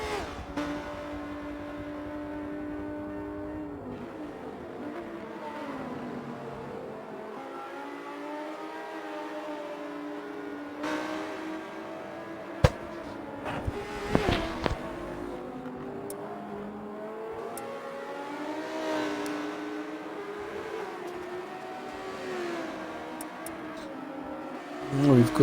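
Race cars lapping a circuit in an AM Swarts Exotic GT round with a Porsche leading, engines droning steadily with rising and falling pitch as cars pass, a few sharp clicks midway, under continuous commentary.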